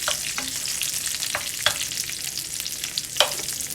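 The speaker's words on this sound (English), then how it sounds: "just stir fry it until it gets nice and ready" Whole chili peppers, lime leaves and curry leaves sizzle steadily in hot oil, with a constant bright frying hiss and several sharper spatters as the pan is stirred.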